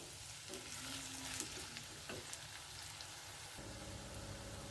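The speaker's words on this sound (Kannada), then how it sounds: "ಎಣ್ಣೆನಲ್ಲೇ ಫ್ರೈ ಆಗಬೇಕು" Masala paste frying in hot oil during cooking for a traditional Brahmin festive feast, giving a steady close sizzle with crackling throughout, no voices.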